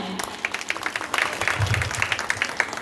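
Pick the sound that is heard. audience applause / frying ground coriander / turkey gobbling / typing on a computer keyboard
audience applause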